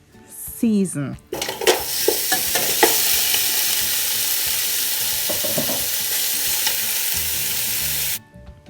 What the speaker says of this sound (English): So I had a tubs of oil in the pot that's already hot, so I added my oxtail